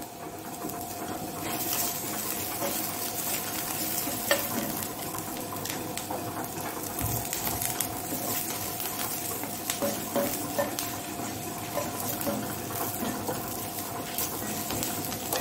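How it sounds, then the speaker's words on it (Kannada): Curry leaves and chillies frying in a pan, a continuous dense crackling sizzle at even loudness, close by with faint stirring and no talk. "ಸ್ವಲ್ಪ ಹುರಿದುಕೊಂಡ್ರೆ ಆಯ್ತು. ಇದನ್ನು ಸ್ವಲ್ಪ ಈ ಮೆಣಸು ಉಬ್ಬಿ ಬಂದರೆ ಆಯಿತು."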